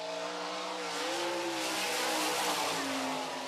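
Sprint car engine roaring through a time trial lap, a loud sustained high-revving drone with pitch swings as the throttle lifts and reopens, tire noise mixed in, no talking.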